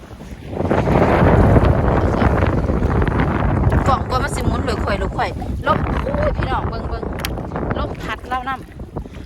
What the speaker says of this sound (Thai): ลมพัดลมพัด